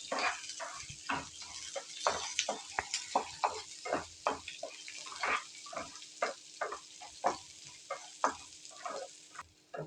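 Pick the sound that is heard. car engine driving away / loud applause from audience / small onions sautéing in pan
small onions sautéing in pan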